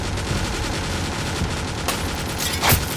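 Gunshots from police firing out of windows in a dramatized comic scene, a continuous rattling barrage with two sharp, louder cracks standing out near the end, close and loud.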